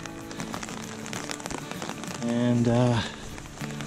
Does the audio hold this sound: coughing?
no